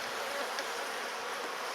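Dense, steady buzzing of many honeybees around hive frames being pried off a queen excluder, close and continuous, a constant droning hum with no voices.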